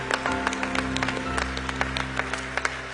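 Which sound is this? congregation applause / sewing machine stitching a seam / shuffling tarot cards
congregation applause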